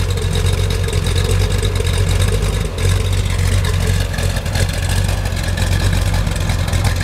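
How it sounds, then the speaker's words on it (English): A 1967 Corvette with an LS-6 engine, 4-speed and Flow Pro mufflers idles steadily, its low, even exhaust rumble held close and unbroken throughout, with no voices over it. "It's got some Flow Pro mufflers on the back. So the car's fairly quiet, but still has a good sound."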